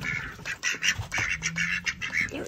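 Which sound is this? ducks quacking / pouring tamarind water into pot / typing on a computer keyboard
ducks quacking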